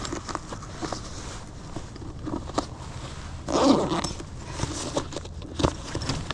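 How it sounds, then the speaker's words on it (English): A zipper on a bag being opened, close by, with scattered rustling and handling noises throughout and one louder, longer zip pull near the middle. "there's like a zipper"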